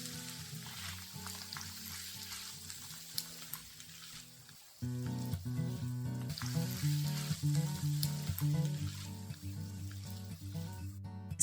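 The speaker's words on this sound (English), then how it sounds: "At this point, add in the tomato and keep stir frying over medium heat." Onion and tomato stir-fry over medium heat in a pan for a scallop paella, a soft steady sizzle that grows louder partway through, heard beneath background music with no talking.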